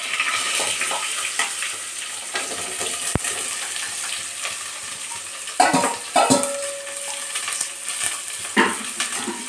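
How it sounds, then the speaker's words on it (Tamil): Sliced bitter gourd frying in oil in a pan and being stirred, a soft continuous sizzle with scraping and clinking of a spoon, quiet and close, with no one talking. "ஆட்கள் ஊற்றி பாவக்காய் போட்டு வறுத்துடுறேன்"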